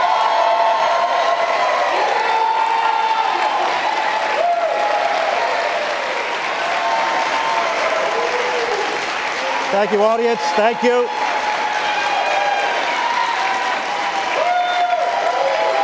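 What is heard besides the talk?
debate audience applauding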